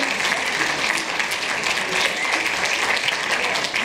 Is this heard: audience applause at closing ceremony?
yes